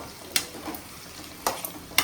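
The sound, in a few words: onion frying in a pan for chilli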